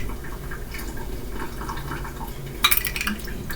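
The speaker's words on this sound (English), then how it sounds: "So I'm gonna put 3 tablespoons of ice cold water in here." Ice cold water poured into a bowl of gluten-free graham cracker dough made with flour, sweet rice flour, brown sugar and cinnamon, heard as a soft trickle under kitchen background noise with a brief splashy clink near the end.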